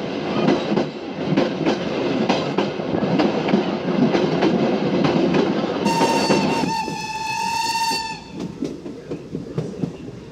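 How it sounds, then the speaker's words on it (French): A train rolls past the old Arques station toward Blandec, a loud steady rumble with rhythmic wheel clatter, and a sustained horn blast sounds midway through before the running noise eases. "Le train repasse devant l'ancienne gare de Arques en direction de Blandec."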